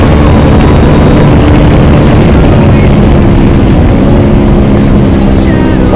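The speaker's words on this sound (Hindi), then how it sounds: "इसका एग्जॉस्ट बहुत लाउड है भाई।" Hero XPulse motorcycle with a very loud aftermarket exhaust roaring and revving nearby on an off-road ride in Uttarakhand, a heavy saturated engine drone with rising pitch changes, dominating the whole stretch.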